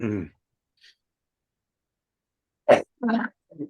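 A person with a cold lets out a single sharp sneeze after a long quiet gap, followed by short murmured vocal sounds; a brief hum of voice opens the moment.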